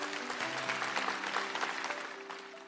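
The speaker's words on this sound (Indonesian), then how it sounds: "Kasih tepuk tangan untuk Tuhan." Congregation at a Christian church sermon bursts into dense applause, sustained clapping filling the room for the whole stretch over a faint held musical tone, fairly loud and even.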